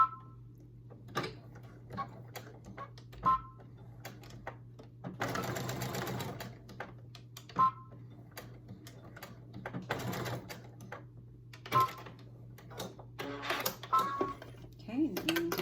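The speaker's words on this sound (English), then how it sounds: "I'm just going to go ahead and stitch across it." A domestic sewing machine stitches across wallet fabric in quick rattling bursts separated by pauses, with a low steady hum and occasional clicks underneath, close and fairly quiet; a voice speaks at times between the runs.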